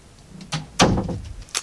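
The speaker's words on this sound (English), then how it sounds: "make sure my door's shut" A door swings shut indoors with one solid thud, followed by a lighter click as it settles, close and fairly quiet in an otherwise still room.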